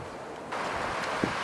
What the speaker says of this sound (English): The winds have been gusting up to about 50 miles an hour.